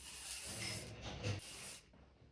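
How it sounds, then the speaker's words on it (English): A steady hairspray aerosol hisses for nearly two seconds, briefly pausing once before resuming, close and fairly loud. "आप यहाँ पे भी spray कर सकते हो."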